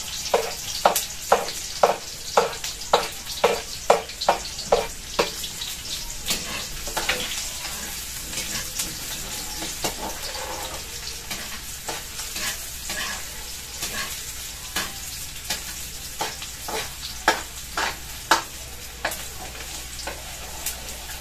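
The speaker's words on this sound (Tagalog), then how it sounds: "Ilalagay na po natin itong ating sibuyas at saka po bawang" Onion and garlic sauté in a hot pan for chicken liver and gizzard adobo, with a steady sizzle under repeated sharp scraping strokes of a spatula that come in regular bursts, close and fairly loud.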